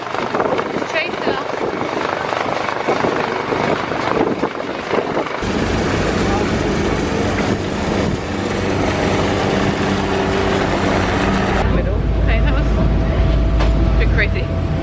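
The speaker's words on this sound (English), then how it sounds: "That helicopter was like literally flushing." An army helicopter passing low and close overhead during a boat trip off Gozo, its loud rotor thump and turbine roar swelling and holding strongly over engine and water noise, with people talking over it.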